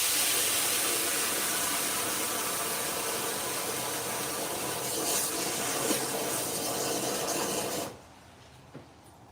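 Water runs steadily from a tap in a garage for washing opal nodules from a Spencer opal pay dirt bag, a loud continuous hiss that cuts off abruptly near the end, leaving a brief quiet clink.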